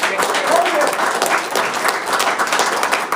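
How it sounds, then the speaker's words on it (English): Steady, loud audience applause at a political campaign event in Illinois, dense clapping from a crowd sustained through the whole stretch without a break. "Hold that applause."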